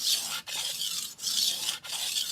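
A vintage hard stainless Victorinox 8-inch knife drawn across a whetstone in three long, steady rasping strokes with brief pauses between them, close and clear with no talking.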